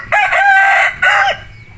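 A chicken crows loud and close on a poultry farm, producing two strained calls in a row amid a flock of moulting hens.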